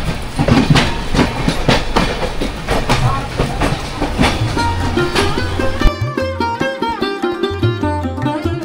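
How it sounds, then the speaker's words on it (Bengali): The Howrah–Amritsar Mail passes close alongside, its wheels beating a rapid clickety-clack over the rail joints; partway through, a loud jarring shift leaves a rougher rhythmic rumble of passing wagons. "এখন লখনৌ ঢোকার আগে আমাদের পাশ দিয়ে ক্রস করছে হাওড়া অমৃতসর মেল।"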